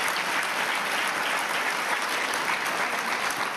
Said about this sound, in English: Can we give George another round of applause for the journey he's starting